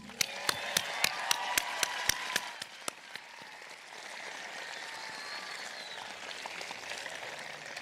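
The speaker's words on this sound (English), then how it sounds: "Give the graduating class of 2026 a round of applause." Audience applause at a Sonora Union High School graduation for the class of 2026: a few sharp, evenly spaced claps up close, then a softer, distant wash of crowd clapping.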